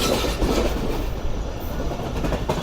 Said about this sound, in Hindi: हमारी ट्रेन भी उछलते कूदते अप्रोच बना रही है रोड़ी जंक्शन पर।